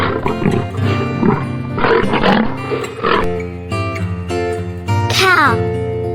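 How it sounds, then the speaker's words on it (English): A jaguar roars loudly and alone in repeated bursts with a rough, growling tone, a close, full-bodied sound with a long strained cry near the end. "Jaguar,"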